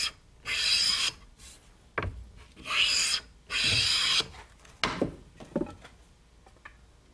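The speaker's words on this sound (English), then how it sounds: "This is the process of planing the cut wood pieces to make them smooth." A hand plane shaves cut wood pieces smooth in a traditional wood-furnishing artisan's workshop, giving several loud rasping strokes in steady succession, followed by a few light knocks and clicks.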